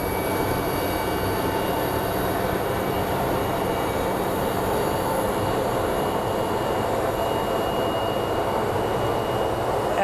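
A passenger jet arriving from Cabo at Phoenix Sky Harbor gives off a steady, loud broadband rumble and whine. It holds even for about ten seconds, with no talk over it.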